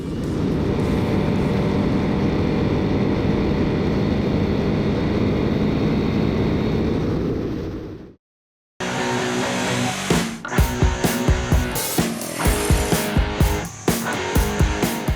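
Honda CB 300R motorcycle engine on the road, a steady loud droning hum that cuts off abruptly, then resumes with sharp irregular pops and bursts as the rider accelerates.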